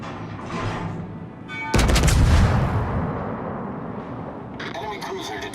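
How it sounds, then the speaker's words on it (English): Naval turret guns fire in a sea warfare game, a sudden heavy boom that rolls out into a long rumbling decay after a quieter stretch, with speech faintly present. "Come on, you got 3 guns on each turret."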